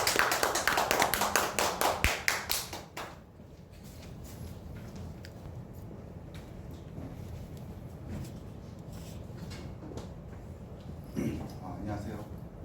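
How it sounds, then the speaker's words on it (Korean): A lecture audience at a women's startup forum breaks into dense applause that lasts a few seconds and cuts off, followed by quiet room noise and a faint speaking voice. "박수로 청해 듣겠습니다"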